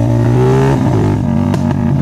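A Honda Tiger motorcycle with a stock engine and PWK 28 carburetor revs loud and close, its pitch rising then falling with a short blip near the end, no talking.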